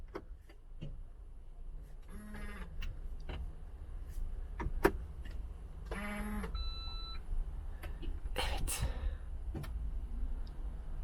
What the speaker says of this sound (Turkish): kontağımızı çalıştırdık.